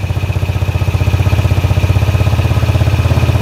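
A Yamaha Jupiter Z motorcycle engine held at about 4000 rpm gives a loud, close, even pulsing drone with a fast regular beat and a faint whine above it, steady throughout.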